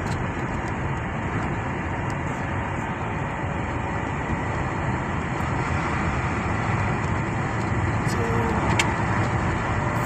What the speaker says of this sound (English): the needle for the RPM down, so meaning the overdrive engage, so the shifting is all good